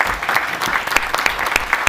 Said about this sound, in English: let's give a huge round of applause for all the panelists.